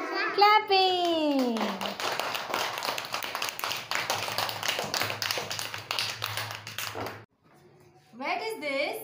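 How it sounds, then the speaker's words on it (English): Children clapping their hands in a fast, steady rhythm of many sharp claps for several seconds, preceded by a voice and followed by a brief pause and more speech. "Clapping."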